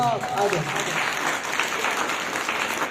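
Audience applause for a student speaker at a public school event in Mansehra, a broad wash of clapping that stays steady throughout, with a brief voice at the start.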